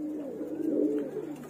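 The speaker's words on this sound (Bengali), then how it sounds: "এই যে দেখতে পাচ্ছেন আপনারা মাদি কবুতর গুলোকে" Female Giribaj pigeons in a loft give soft, low, rolling coos, one drawn-out call swelling and fading at close range over faint background hiss.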